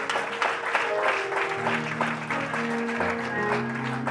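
Church congregation clapping and cheering in praise at a French-language sermon, dense sustained applause throughout with a voice speaking briefly over it.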